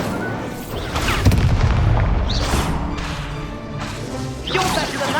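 Incendio fire spell cast repeatedly in Hogwarts Legacy, a loud burst of booming, crackling blasts and whooshes in combat, with dense rumbling impacts throughout and flaring crashes near the end.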